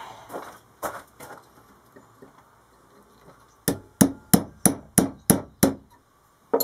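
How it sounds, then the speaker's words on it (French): A hammer strikes metal on a small vise, first in a few scattered blows and then in a rapid run of about eight loud, sharp, evenly spaced hits, close by and with no talking. "Marteau."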